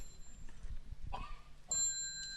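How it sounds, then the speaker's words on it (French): A small bell is struck in a meeting hall during a traditional teaching session, a short bright ring fading out after some quiet room noise. "Petite cloche."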